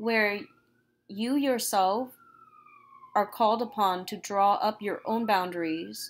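A siren wails outside with a steady, sliding tone that stays faint and distant, under a person talking close up.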